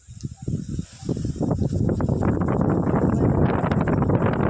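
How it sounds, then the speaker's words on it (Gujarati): Strong, gusty wind roars across a village setting during a stormy spell, building into a steady buffeting rush against the microphone. "આ બાજુ તો બહુ જ બધો પવન કાઢે છે"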